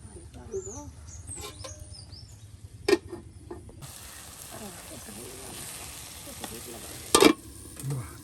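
Taro and local fish curry sizzles in a pan, a steady frying hiss with occasional stirring scrapes and a few sharp clanks, close up, while a voice speaks faintly in the background.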